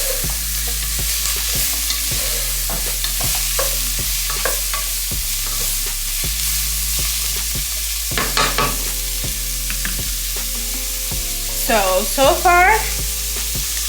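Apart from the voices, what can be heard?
stirring onions frying in a pan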